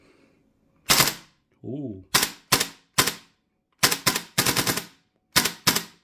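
A KWA Lithgow Arms F90 gas blowback airsoft rifle fires in freezing cold, giving about ten loud, sharp, close cracks, singly and in quick bursts, with a short vocal exclamation between shots.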